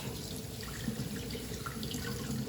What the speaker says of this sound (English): So I'm gonna rinse this off.